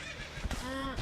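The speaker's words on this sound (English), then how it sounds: "So here's the horse." Minecraft horse neighing in the video game, one short whinny with a falling tone in the second half, close and moderately loud over low game background noise.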